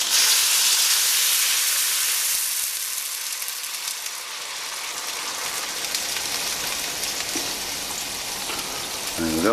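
Boiling water poured into a pan of spare ribs gives a loud, steady hissing gush that is strongest at the start, then settles into a softer, bubbling sizzle.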